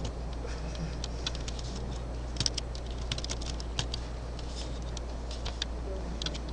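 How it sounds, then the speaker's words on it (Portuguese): Someone types on a computer keyboard in poor condition, making a steady patter of light clicks with occasional sharper taps over a constant low hum. "Meu teclado tá horrível."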